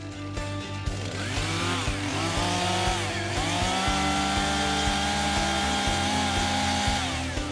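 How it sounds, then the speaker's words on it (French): A chainsaw engine catches and runs, revving up and down in loud, steady bursts with a rough mechanical idle between throttle blips. "je tire à nouveau sur le lanceur et la tronçonneuse démarre. J'enlève le frein de chaîne et j'accélère."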